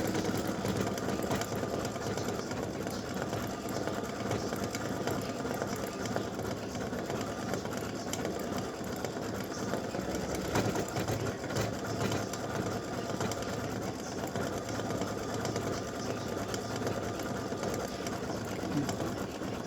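An embroidery machine stitches a gnome girl's nose in lighter thread on an in-the-hoop Valentine's mug rug, running as a steady, fast mechanical whir without pause at moderate volume, close by.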